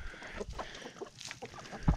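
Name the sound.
chickens clucking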